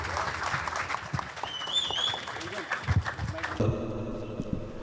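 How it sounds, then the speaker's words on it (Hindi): Audience at a singing club evening show in Thane applauding to welcome a performer, a moderate burst of clapping mixed with crowd noise and a faint whistle, then stage sound and a voice toward the end. "जोरदार तालियों से स्वागत कीजिए प्रदीप चतुर्वेदी जी का।"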